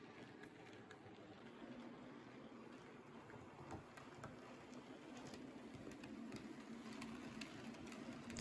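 A model train with 4-plank open and mica B wagons rumbles quietly along a track, with faint clicks and ticks as the wheels cross a curved crossing and board join, continuous and low throughout.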